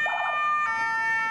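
An ambulance siren wails steadily in the street, loud and continuous, with its tone holding then shifting partway through; no one speaks.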